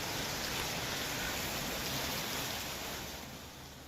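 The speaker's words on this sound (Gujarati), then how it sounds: "કડાણાના તાલુકાના ગ્રામ્ય વિસ્તારમાં કમોસમી વરસાદ વરસ્યો છે।" Unseasonal rain falling over a rural village area of Kadana taluka in Mahisagar, Gujarat, a steady, dense hiss of rainfall that holds even and fairly loud before easing slightly at the end, with no voices.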